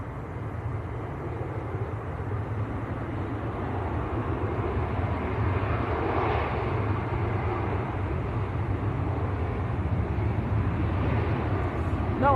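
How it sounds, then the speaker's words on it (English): A Ryanair airliner on its takeoff roll at Manchester Airport gives a steady low engine rumble that builds slightly midway and holds at a moderate distance, with a faint voice in the background. "Ryanair on the roll."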